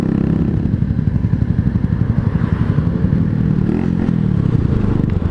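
A Kawasaki twin-cylinder motorcycle with a wide rear wheel rumbles steadily and loudly close by for several seconds, its low throbbing engine note holding level with a slight rise near the end.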